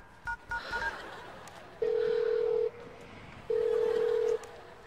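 A telephone being dialed gives two long, steady electronic tones about a second apart, clear and close, after a few faint noises at the start.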